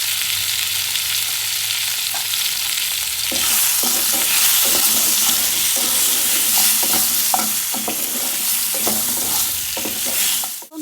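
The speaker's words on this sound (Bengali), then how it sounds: "আমি আলুগুলি ভেজে নেব।" Potatoes fry in oil with salt and turmeric for Bengali rui fish curry: a loud, steady sizzle that swells partway through, with repeated scraping taps of a spatula stirring the pan and no talking.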